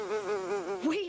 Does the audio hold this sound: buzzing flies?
yes